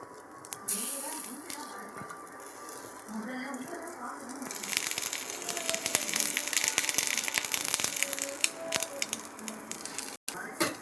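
An egg dosa topped with onion, curry leaves and coriander sizzles on a hot pan, a steady crackling hiss that grows louder and fuller midway and continues with soft pops and spatters.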